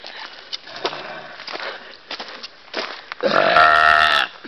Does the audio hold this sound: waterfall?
no